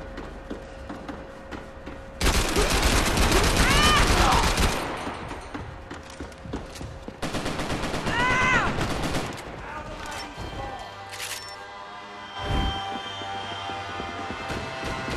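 Rapid bursts of automatic gunfire and overlapping shots ring out in a Max Payne 3 multiplayer team deathmatch, loud and dense in two main volleys with quieter shooting between them.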